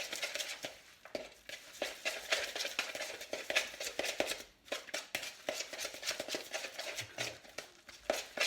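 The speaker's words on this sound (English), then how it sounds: "just going to mix all these ingredients together" Cauliflower, egg, plain flour and parsley fritter batter being mixed by hand in a bowl, with repeated quick wet scraping and tapping strokes in an uneven rhythm, close and clear, with no talking.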